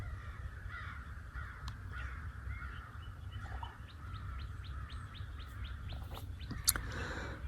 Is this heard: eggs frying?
no